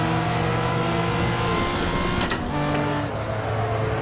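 A Toyota Supra in a racing video game, its engine droning loud and steady with shifting revs that briefly dip and change pitch partway through, up close with no talk.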